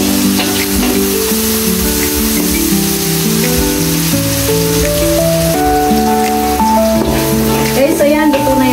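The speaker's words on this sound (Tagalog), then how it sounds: "Haluin natin hanggang medyo maluto-luto yung ating kamatis" Tomatoes fry in a pan with a steady, close sizzle and occasional stirring scrapes. Background music plays throughout.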